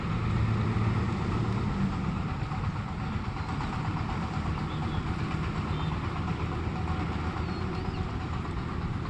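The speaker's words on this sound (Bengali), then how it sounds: "আবার এইদিকে পাশে রাস্তা, ঢাকার কোচ যাইতেছে।" A Dhaka-bound coach bus rumbles along a roadside with a steady low engine drone, moderately loud and continuous, with no talk over it.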